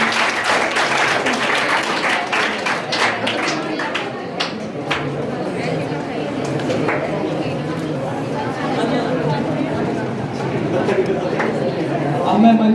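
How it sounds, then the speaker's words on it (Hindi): Applause at a farewell ceremony: a crowd claps continuously and fairly loudly for several seconds, with scattered sharper claps early and a background murmur of chatter throughout. "जोरदार तालियां हो जाए।"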